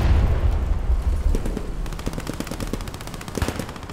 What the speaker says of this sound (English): MG42. Yeah, you can hear it.